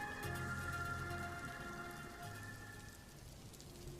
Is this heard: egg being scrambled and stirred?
no